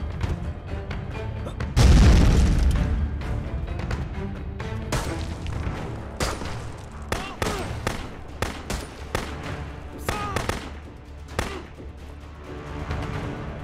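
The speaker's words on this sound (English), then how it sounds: "Oh no, another grenade." Grenade blasts in a war video game: one heavy, booming explosion followed by a dense run of sharp bangs and crashing impacts, loud and close throughout.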